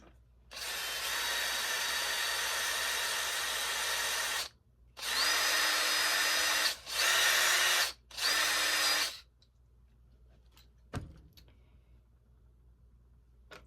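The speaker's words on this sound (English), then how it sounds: "we're just going to drill this screw onto the end of this scuff pad" A power drill driving a screw into a scuff pad whirs loudly for about four seconds, then runs in three shorter bursts, each spin-down audible, followed by a faint clunk and quiet.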